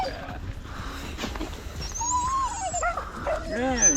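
A dog whimpers and whines at a riverside fishing spot, with thin high whines rising and falling over several seconds while people talk nearby.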